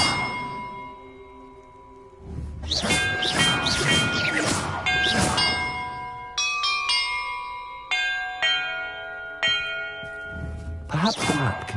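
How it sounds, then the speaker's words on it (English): Bells rung in the video game Hogwarts Legacy, loud metallic clangs and chimes struck in a quick irregular sequence, ringing tones overlapping with crashing hits, the sound fairly close and continuous. "Perhaps the map contains clues about the order I'm supposed to ring the bells in."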